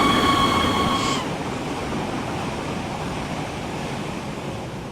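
A BR145 electric locomotive runs on the Munich–Garmisch route in Train Simulator 2016, a steady rolling rumble with a brief high electric whine or tone at the start that cuts off after about a second.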